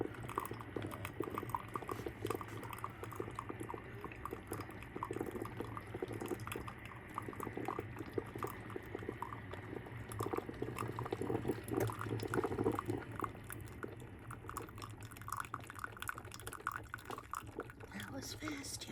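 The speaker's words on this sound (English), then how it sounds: "Listen to it percolating in there." A Hamilton Beach coffee maker percolating, with continuous gurgling, bubbling and dripping that is moderately near and holds steady throughout, and someone speaking over it at times.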